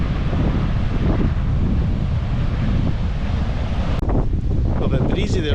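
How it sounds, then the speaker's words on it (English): Strong wind buffets the microphone while someone crosses a bridge, a loud, continuous rumbling gust with a sudden break near the end, followed by some quieter clatter. "Got a bit breezy there for a second."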